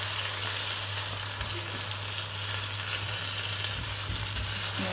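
Fish pieces in a crispy coating fry in hot oil, giving a steady, close, fairly loud sizzle and crackle that runs the whole time with no talking.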